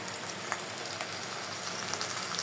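Big-fish roe fries in a pan with dried chilli paste, making a constant soft, even sizzle with faint crackles throughout and no talk.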